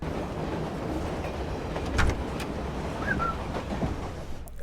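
A train rolls along in a film scene, a steady rumbling roar with a brief louder clank midway and faint high squeaks, no voices over it.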